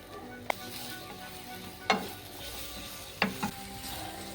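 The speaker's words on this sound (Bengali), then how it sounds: "শুধু বেগুনটা ভাজবো" Quiet sizzling of eggplant frying in oil with salt and turmeric, with three sharp scraping stirs of a utensil against the pan spaced apart.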